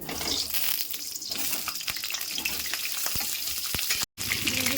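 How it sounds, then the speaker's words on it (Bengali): Whole potatoes, pricked with a fork, frying in mustard oil in a wok, a loud continuous crackling sizzle with occasional pops, steady and close. "কড়াইতে সর্ষে তেল দিয়ে দিলাম কাটা চামচ দিয়ে আলুগুলো ছিদ্র করে নিয়েছি আলুগুলো এবার ভেজে নেব"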